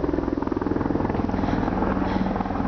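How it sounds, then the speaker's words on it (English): A military helicopter from a nearby army base passes overhead, its rotor thumping in a steady rapid pulse, fairly loud and constant throughout with no talking. "There's a helicopter up above because there is an army base around here"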